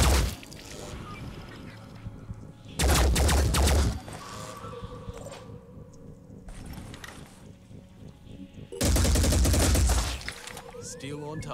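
Weapon fire in the video game Phoenix Point, heard as two loud bursts of rapid gunfire, each lasting about a second, with quieter game sounds and effects in between.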